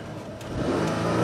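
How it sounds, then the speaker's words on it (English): A Buick Venon engine running with no oil in it, a steady mid-pitched hum that rises slightly as if revving, close and alone with no voices over it. "That is a healthy sounding engine."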